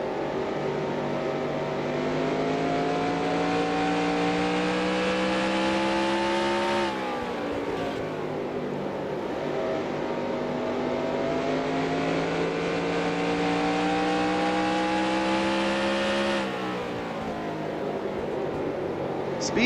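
A NASCAR Racing 2003 stock car engine drones loudly at high revs on the North Wilkesboro track, pitch climbing steadily through a long run, dropping sharply twice as it lifts for the corners, then building again.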